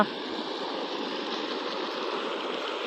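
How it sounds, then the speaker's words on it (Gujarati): Continuous rushing of water pumped by a motor into a mango orchard, flowing to the trees, with a steady mechanical hum beneath it, constant and moderately loud. "આપણે મોટર ચાલુ કરી દીધી આંબામાં।"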